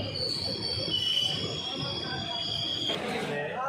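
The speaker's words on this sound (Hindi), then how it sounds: "168 किलोमीटर की डिस्टेंस कवर करने के बाद हमारी ट्रेन पहुंची है रामपुरा पुल" The Ambala–Sri Ganganagar Intercity Express rolls into Rampura Phul station with loud, sustained high-pitched wheel squeal over a steady rumble of the coaches. The squeal shifts pitch near the end, and a faint voice sits under the noise.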